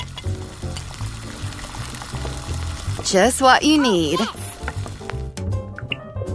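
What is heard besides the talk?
stirring a sugar and soda mixture in a pan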